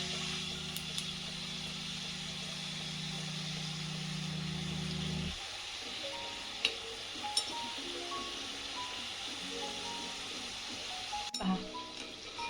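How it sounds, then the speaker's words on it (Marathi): Champakali snacks deep frying in oil over a low gas flame, a steady soft sizzle with a few light clinks of a utensil against the pan partway through. "आता आपण ह्या सगळ्या तळून काढूया. आणि मंद गॅसच ठेवायचा आहे"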